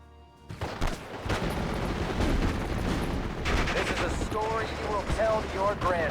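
Infantry gunfire in the WWII strategy game Steel Division Normandy, with rapid overlapping rifle and machine-gun bursts forming a loud continuous battle din, plus a few higher tonal game effects near the end.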